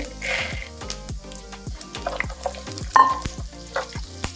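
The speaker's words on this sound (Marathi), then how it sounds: "त्यानंतर मी इथे मोहरी टाकते। त्यानंतर जिरे टाकते, त्यानंतर साबुदाणे" Mustard seeds, cumin and sago fry in hot oil for tomato chutney, giving a busy crackle with repeated sharp pops and spits over a continuous sizzle; no voices.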